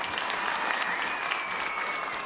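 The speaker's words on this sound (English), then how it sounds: "let's give them a round of applause" A crowd at a startup venture showcase gives a round of applause, steady moderate clapping heard from within the room with no break.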